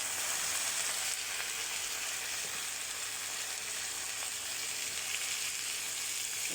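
Potatoes, soybeans and soaked chickpeas frying in a pan, a steady close hiss and sizzle with no talking.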